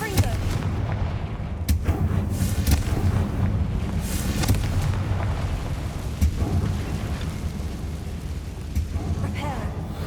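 A Confringo fire-blast spell in Hogwarts Legacy booms with heavy, rumbling explosive bursts, several loud impacts in a row over a dense, continuous roar of combat noise.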